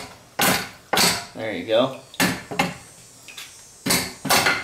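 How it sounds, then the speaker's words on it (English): A 2x4 piece of wood smacks the lower casing of a Yamaha F2.5 4-stroke outboard motor to loosen it. Several sharp, close wooden thuds land in quick succession while someone talks. "you're gonna take a 2x4 piece of wood and you're gonna smack the back of it right here"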